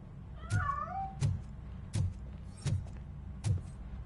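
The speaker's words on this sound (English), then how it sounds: "That cat must be hiding inside." Cat meowing in the video game RoboCop: Rogue City, a few distinct meows, with soft thumps and clicks recurring at a steady pace and fairly quiet background.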